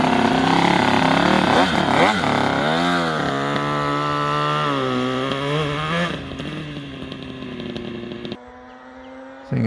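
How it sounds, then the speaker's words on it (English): A two-stroke motorcycle engine revs hard in the countryside, its buzzing note rising and swooping up and down through several throttle blips before easing off, loud and close. "That's a clean sounding two-stroke."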